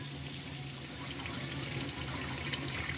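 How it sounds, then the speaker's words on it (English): Warm water runs steadily from a caravan tap in a continuous rushing stream, close and fairly quiet, with no voices. "lovely warm water coming through"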